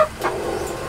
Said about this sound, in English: I've got chickens up there at the moment